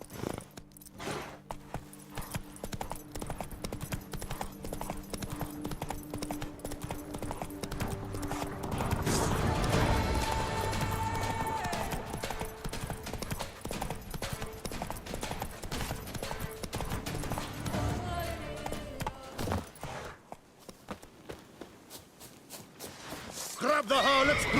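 Roach, the horse in The Witcher 3, gallops with steady rhythmic hoofbeats, loud and close, over game music with a brief quieter stretch near the end.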